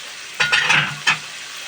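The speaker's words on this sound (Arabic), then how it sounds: "نقلب بقى الكبده بتاعتنا حبيبنا" Beef liver and vegetables being stirred in a frying pan, with a steady sizzle under a few short scraping bursts of the spoon.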